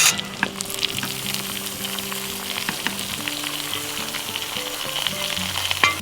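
Vegetables hit browned meat pieces frying in a pan at an off-grid cabin, making a steady, loud, close sizzle with stirring scrapes, and soft musical tones play underneath.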